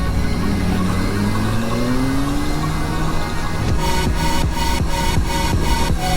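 A sport motorcycle, a Ducati or an Aprilia, passes by loudly, its engine note climbing and revving, followed by a run of rapid gear changes or throttle blips as it rides off. Nobody speaks.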